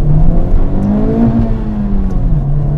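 Turbocharged engine of a Honda Civic Type-R FK8 revving hard in second gear, a loud, steady drone with pitch climbing and easing, heard from inside the car.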